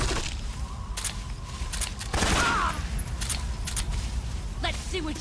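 Gunfire in the video game Metal Gear Solid 3, a boss fight with The Boss: several sharp shots ring out over a dense, steady game soundscape, with one louder blast near the middle.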